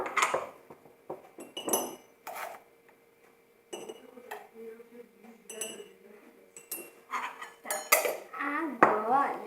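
A utensil stirs a cake-style batter of flour, sugar, cocoa drink powder and coffee in a bowl, giving repeated close clinks and scrapes against the dish in irregular bursts, with some talk between them.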